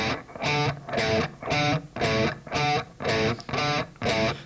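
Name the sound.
guitar playing a perfect fourth interval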